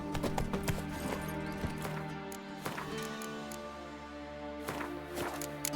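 Roach the horse walks in The Witcher 3, hooves clip-clopping steadily over layered game music and ambience, with no voices in the mix.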